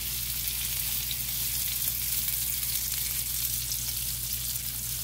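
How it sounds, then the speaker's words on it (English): Salmon fillets sizzling in a hot skillet, a loud, continuous crackling fry that holds steady throughout with no pauses, with no talking. "I'm going to go ahead while they're nice and just sizzling"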